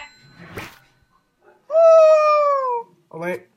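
A single drawn-out cat meow rings out clearly, with a few short scattered noises and a brief voice-like sound just before and after it.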